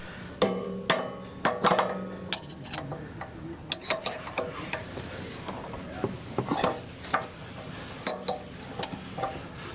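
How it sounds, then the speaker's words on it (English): A socket wrench works an anode rod plug loose from the bottom of a hot water tank in a Forest River Puma RV, giving a series of sharp metallic clicks and clinks at an irregular pace, close and fairly clear. "We'll do this with this socket wrench."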